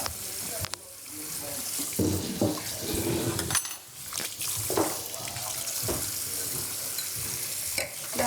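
Running water splashes steadily while something is rinsed and washed at a farm, a continuous wet gush with intermittent clatter and brief talk.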